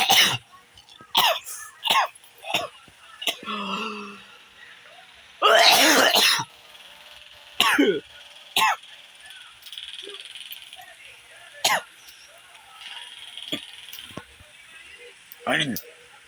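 A man in a fit of harsh, repeated coughing and throat clearing, loud bursts scattered across the stretch with pauses between, close by.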